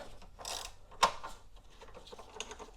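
A ratchet with a 10mm deep socket works a battery hold-down nut loose on a 2015–2021 Subaru WRX STI, giving quick metallic clicks with one sharper snap, close and fairly quiet.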